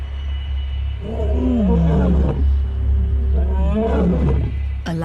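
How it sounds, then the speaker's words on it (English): Big male lions roar along a river on the African savanna, two deep, loud, drawn-out groaning calls over a steady low rumble. "The roar echoing along the river means that big male lions are on the prowl."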